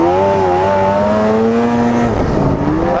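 An Arctic Cat ZR 800 snowmobile engine bogs on snow, a loud close whine with pitch sagging and wavering as it struggles to rev.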